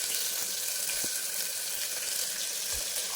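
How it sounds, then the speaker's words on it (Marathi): Onion hits hot oil already crackling with cumin and mustard seeds, making a loud, steady sizzle with faint pops throughout, close and without speech. "आता जिरा राई गरम झालेली आहे. आता त्याच्यामध्ये मी टाकत आहे कांदा."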